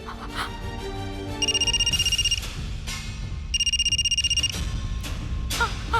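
A phone rings in two bursts of a bright, pulsing electronic tone, with a pause between them and a busy, dramatic background bed underneath.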